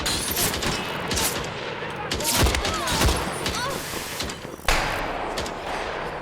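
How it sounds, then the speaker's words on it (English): Gunfire crackles in the first-person shooter game Better Than Dead, loud rapid bursts and heavy thumps layered over dense game noise for several seconds. "sometimes you're shooting at what you think is your target"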